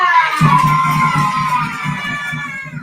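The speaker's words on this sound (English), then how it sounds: "Give a round of applause to Alicia." A live audience at a comedy-style football prediction show cheers, whoops and shouts loudly and steadily, a crowd roar sustained throughout without talk.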